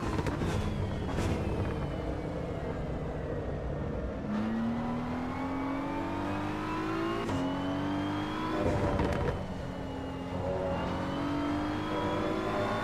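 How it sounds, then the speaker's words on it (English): Race car engine in the Assetto Corsa EVO racing game revving under full throttle with turbo spooling up, rising whines and gear-shift drops over a steady loud engine drone, no talk. "So I can go full throttle until I hear the turbo coming up"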